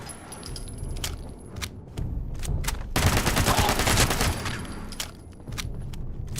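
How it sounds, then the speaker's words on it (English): Bursts of SMG fire in Fallout 76: an opening burst, scattered sharp shots through the first half, then a loud sustained burst of rapid automatic fire lasting about two seconds before a few more isolated shots. "This SMG doesn't get much of a workout, I will say."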